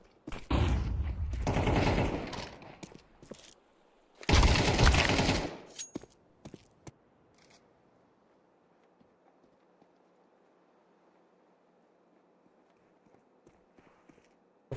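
Two loud bursts of gunfire and explosive blasts go off in a tactical shooter video game as a flashbang is deployed. Scattered clicks and faint footsteps follow over a quiet background.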